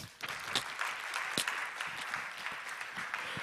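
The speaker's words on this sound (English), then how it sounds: "Can we get an applause for that?" Applause rises from an audience at a university sustainability day on circular economy, a soft, distant patter of clapping that holds steady throughout, fairly quiet in the room.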